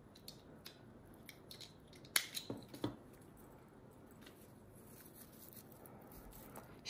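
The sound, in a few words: scissors cutting yarn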